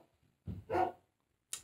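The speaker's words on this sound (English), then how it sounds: "It's my dog." A dog barks indoors, one deep woof followed quickly by a louder bark, and then a short sharp sound after a pause. The barks are fairly near, with quiet room tone between them.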